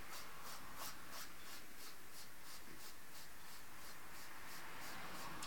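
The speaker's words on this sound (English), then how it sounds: "So literally buffing it all down, getting rid of any lumps and bumps," Rhythmic rasping of a file buffing down gel nails, quick regular back-and-forth strokes close up and fairly soft, with no talking.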